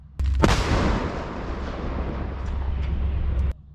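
A single heavy howitzer blast booms close by, then rolls into a long sustained rumble that cuts off abruptly.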